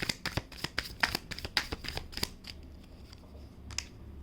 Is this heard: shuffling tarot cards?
yes